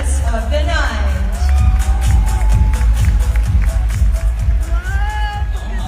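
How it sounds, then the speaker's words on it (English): A crowd at a pageant show cheers and screams wildly, a loud dense roar of whoops and shouts that carries on throughout, with voices calling out over it. "Oh my gosh, the crowd goes wild."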